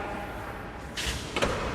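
A Mitsubishi Xpander Cross power tailgate swings down and shuts with a firm thud, then a short latching clunk, close by against a steady low background.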